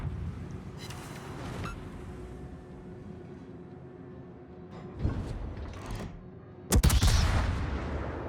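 Naval game shell fire from an enemy ship, with a few distant booms and crackling salvos spread across the clip and a sharper, louder blast near the end; one brief spoken exclamation.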